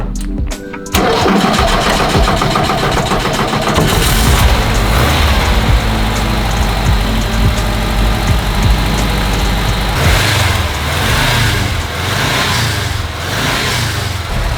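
A car engine cranks briefly, catches and roars to life, then settles into a loud, steady idle with slight fluctuations.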